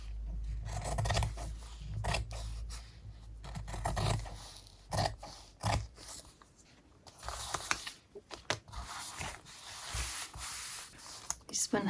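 Scissors snip and rustle while trimming paper or card for a handmade nature junk journal cover, producing irregular close cuts and scraping sounds at a soft level.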